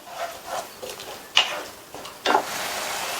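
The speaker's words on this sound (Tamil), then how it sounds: "இது ஒரு கொதி வரட்டும்." A tomato-based okra masala simmers and lightly sizzles in a pan, with soft stirring scrapes and a couple of sharper clicks of a spoon against the pan.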